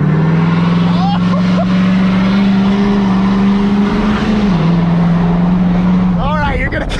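Car engine fitted with a 5-inch turbo-back exhaust, idling and revving loudly with a deep steady drone throughout, close by, while people talk over it.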